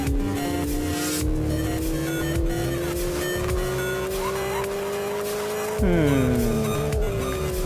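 A fast car in a speed test, its engine note climbing steadily through the gears with a sharp shift near six seconds, loud and continuous with tire noise beneath.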